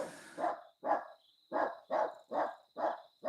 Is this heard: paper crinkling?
no